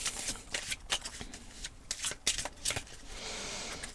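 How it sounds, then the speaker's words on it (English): A pre-shuffled deck of oracle cards gets a light shuffle, soft riffling bursts and flicks coming in quick irregular clusters, close and fairly quiet, with no talking. "Very light shuffling as these are already pre-shuffled"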